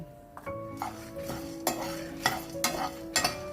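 Pepper, cumin, fenugreek and curry leaves dry-roasting in a pan, stirred with a spoon that scrapes and taps the pan in a steady rhythm over a soft sizzle, close and without speech.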